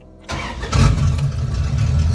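A 1967 Plymouth Valiant engine catches after brief cranking and settles into a steady, loud, rumbling idle up close, with no talking.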